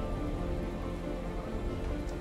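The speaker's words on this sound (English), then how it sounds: "Toxic rain." Toxic rain falling in Surviving Mars, a steady, even wash of rainfall with no breaks, filling the scene at a moderate level with no talk.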